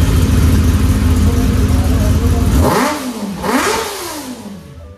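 A Kawasaki ZX-10R motorcycle engine rumbles loudly at idle, then gives two quick throttle blips that rise and fall before fading.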